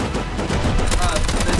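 Rapid bursts of gunfire in the survival video game Rust ring out during a large raid event, dense and continuous over the span with a voice faintly mixed in.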